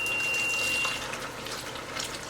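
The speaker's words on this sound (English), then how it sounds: "we'll add a couple of cups of chicken broth and a couple of cups of water" Chicken broth and water pour steadily into a soup pot for homemade chicken noodle soup, a continuous close liquid splash that eases slightly after the first second.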